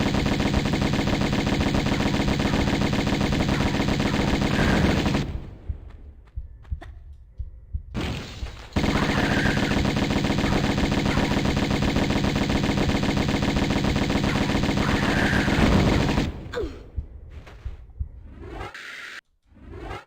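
Uzi gunfire in Tomb Raider Remastered, loud rapid continuous bursts of automatic fire that stop briefly, then resume for a long second burst before trailing off.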